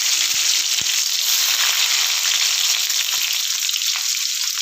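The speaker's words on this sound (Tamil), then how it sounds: "எண்ணெய் சூடானதும் கடுகு சேர்த்துக்கலாம். கடுகு நல்லா பொரிஞ்சுதான் வெங்காயம்" Mustard seeds and onion fry in hot oil for a dried-fish curry, a steady, loud, close sizzle filling the whole stretch, with a couple of faint pops and stirring taps and no talking.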